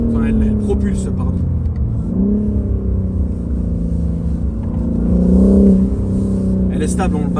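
A BMW M4 Competition pulls hard along a road, its engine a deep, loud in-cabin drone that rises in pitch with gear changes and swells near the end, with someone talking over it.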